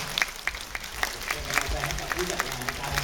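A short burst of scattered clapping from a small crowd at a concert, with a voice speaking over it.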